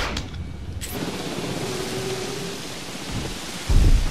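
Thunderstorm in Jurassic World Evolution: loud, steady hissing rain with a rolling rumble of thunder that swells near the end.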